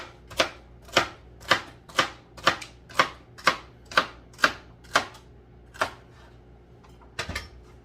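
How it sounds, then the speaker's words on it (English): A kitchen knife chops celery on a cutting board in about a dozen sharp, evenly spaced knocks, crisp and close, slowing slightly toward the end with no talking. "Okay, so we're going to cut our last celery."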